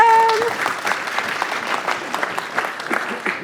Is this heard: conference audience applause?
yes